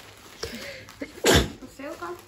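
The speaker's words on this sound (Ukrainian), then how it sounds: "я так чхнула" A woman sneezes once, loud and close, a sharp burst in the middle of a quiet indoor moment, with brief talk just before and after it.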